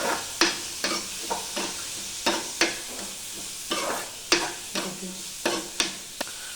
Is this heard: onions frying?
yes